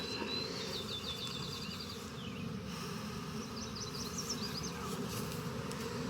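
Honey bees buzzing steadily as they are shaken off a hive frame while splitting a swarmed colony, a dense continuous hum at low volume with faint higher chirps over it.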